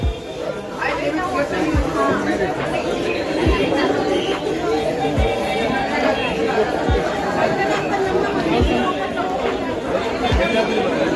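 Dense chatter from a large crowd at Akkalkot Swami Samarth temple carries on steadily, with sharp thumps recurring about every second and a half beneath the babble.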